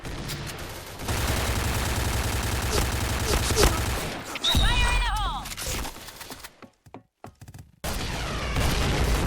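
Rapid, loud bursts of automatic gunfire with sharp booms in the online shooter game PB, a brief lull near the end, then more shooting amid busy game sound effects.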